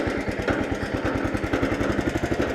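An 11hp Honda engine fitted to a 1959 Case 700 tractor runs with a fast, steady chugging pulse as it idles up, loud and close with no voices.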